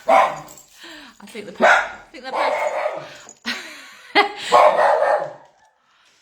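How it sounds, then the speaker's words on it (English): A pet dog barks repeatedly indoors, close and loud yips and barks in several bursts, while a person talks over it. "Excuse my dog."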